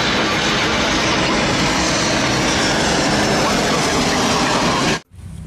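A loud, continuous roaring engine drone like an airplane from a toy airplane, holding steady for several seconds before cutting off sharply.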